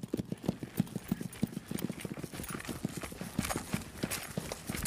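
Horse hooves clip-clop steadily in a quick, even rhythm during a training session, close and fairly loud, with no talking over them.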